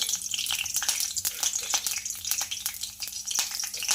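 Curry leaves, cumin and mustard seeds fry in hot oil, a dense and continuous crackling sizzle peppered with sharp pops.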